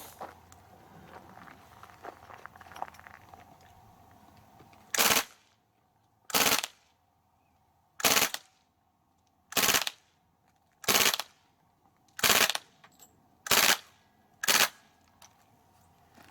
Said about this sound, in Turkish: Şimdi de yine otomatik modda bu sefer dipçiyi açarak biraz daha kontrollü atış yapabilir miyiz onu kontrol edelim.